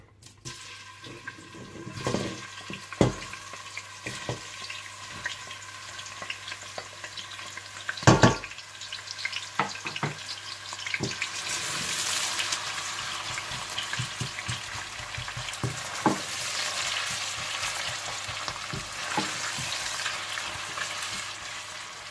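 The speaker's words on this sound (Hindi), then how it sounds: "और जब घी गरम हो जाए तो आप इसमें प्याज डालकर गोल्डन ब्राउन कर लीजिए।" Onions frying in hot desi ghee until golden brown, a continuous sizzle with intermittent spatula scrapes and clatters, one louder knock midway, the frying noise swelling in the second half; no talking.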